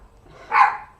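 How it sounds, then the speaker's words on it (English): A dog at home gives a single short bark, moderately loud, against quiet indoor background. "That's when she normally barks."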